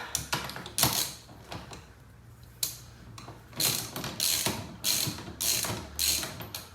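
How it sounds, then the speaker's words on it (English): Seat mounting bolts being tightened on an MR2 Spyder with a ratchet, quick bursts of clicking pawl strokes in an uneven rhythm, close and fairly loud, with no talk. "Now, we're going to tighten this up."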